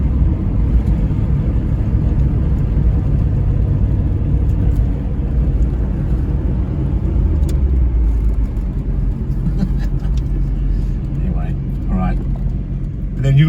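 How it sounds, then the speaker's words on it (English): A Hyundai Excel moving through the gears in traffic, heard as a loud steady engine and road drone from inside the car that shifts subtly in pitch. Speech is present over it. "So we're going through the gears."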